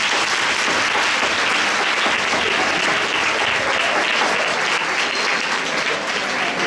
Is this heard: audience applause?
yes